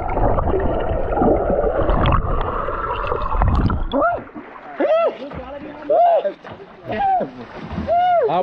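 Water splashes loudly and continuously for the first four seconds as someone goes into the water, followed by voices talking and calling out in short bursts.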